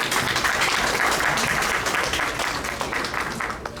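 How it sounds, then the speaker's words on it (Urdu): An audience at an Eid community gathering applauds, with dense steady clapping from many hands that fills the room and slowly tapers slightly, no talk over it. "بہت ساری تالیاں کامران"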